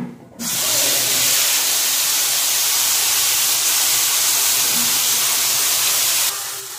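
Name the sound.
ginger garlic onion tomato paste sizzling in hot oil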